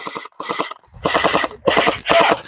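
A gel blaster toy gun fires gel balls in rapid bursts, with quick rattling volleys broken by short pauses, loud and close.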